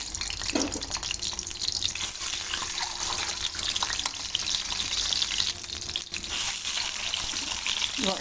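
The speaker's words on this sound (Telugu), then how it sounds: "కొంచెం లైట్ బ్రౌన్ కలర్ వచ్చేంత వరకు వేయించుకోవాలండి" Boiled eggs with slits cut into them sizzle in hot mustard oil in a pan, a continuous close crackle and spatter with occasional clinks and stirring.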